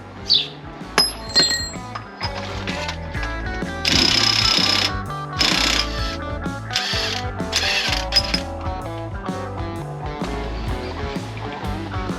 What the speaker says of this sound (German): Und dann kann man die mit dem Schrauber ganz locker runterschrauben.